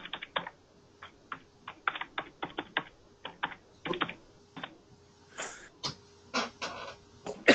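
Computer keyboard typing at a login screen, with a run of crisp, uneven key taps in quick bursts and short pauses, close and fairly quiet, with no voices.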